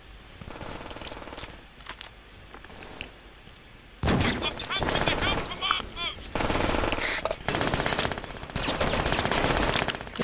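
Automated turret machine gun fire in the shooter game Brink, rapid bursts of gunfire that are faint and sparse at first, then loud and sustained with overlapping shots and in-game effects.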